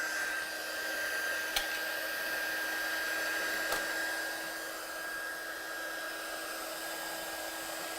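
A heat gun blowing hot air to melt embossing powder for watercolour card making, a steady whirring blower tone with a high whine, fairly faint and constant, with two small clicks.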